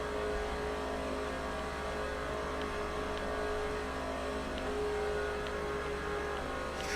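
Race car engine on the Daytona oval in NASCAR 06, a steady droning hum held at constant high revs throughout, with faint higher whine above and no voices.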